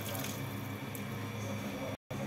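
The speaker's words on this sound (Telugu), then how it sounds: "1 లీటర్ వాటర్ పోసేద్దాం." Hot water is poured into a pot of Russian-style chicken soup, a faint, steady splashing stream that continues with a brief gap near the end.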